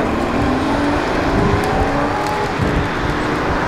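Rally car engine at a gold rush rally event, a steady loud broadband roar held for several seconds with slight rises, up close and without speech.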